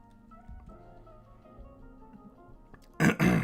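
A short, rough throat clearing near the end, two quick raspy bursts after a stretch of quiet room noise.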